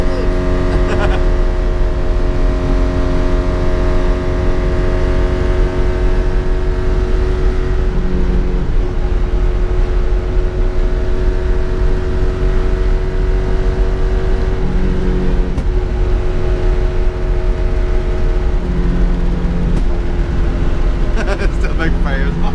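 A 1980 Mitsubishi Minica's small engine runs loud and close, holding a buzzy rev with rises and dips in pitch and occasional rough pops, while people talk over it.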